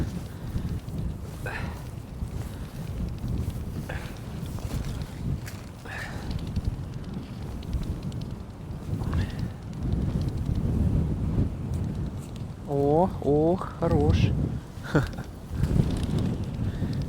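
Strong, gusty wind buffets the microphone out on the ice during ice fishing, a constant roaring rush, with a few brief exclamations from a voice partway through.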